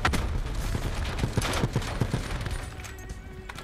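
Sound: gunfire in the video game Black Ops 4

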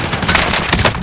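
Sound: gunfire in a video game (Call of Duty Warzone)

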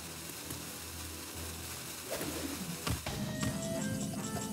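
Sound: albatross card sound in Hearthstone, video game

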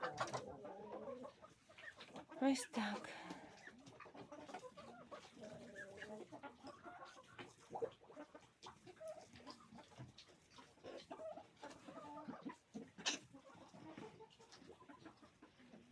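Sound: chickens clucking

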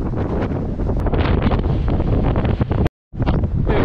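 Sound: wind blowing at the beach

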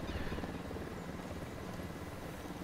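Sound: helicopter in video game Ghost Recon Wildlands

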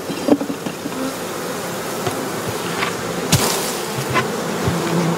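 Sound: honey bees buzzing around hive propolis trap

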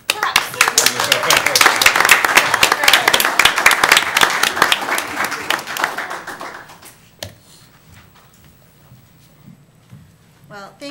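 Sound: council meeting applause

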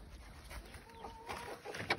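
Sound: chicks and hens clucking inside a coop

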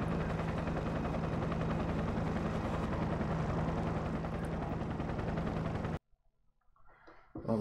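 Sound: helicopter in video game Enter the Matrix

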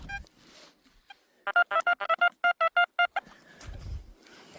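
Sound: metal detector signal tone

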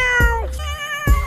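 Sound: cat meowing, lion-shaped pet making cat sounds

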